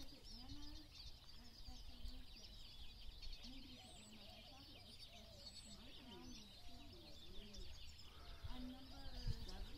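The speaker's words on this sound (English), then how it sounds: "Lots of birds." Birds call at Ash Canyon Bird Sanctuary near Sierra Vista, Arizona, with repeated soft cooing and scattered chirps over faint outdoor background, and a person speaks quietly at moments.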